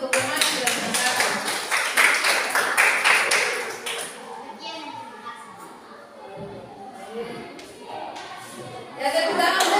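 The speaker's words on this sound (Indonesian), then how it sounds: "tepuk tangan dulu untuk teman yang sudah mendengarkan" Classmates clap for fellow students in a school classroom, a burst of uneven hand claps for about four seconds that fades into quieter chatter and scattered taps, with a few more claps near the end.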